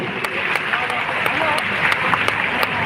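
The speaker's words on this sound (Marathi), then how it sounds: "एकदा जोरदार टाळ्या सगळ्या आमच्या लाडक्या भगिनींसाठी" A large crowd at a political rally applauds in a dense, steady wash of clapping with scattered sharper claps and cheers, loud and sustained throughout.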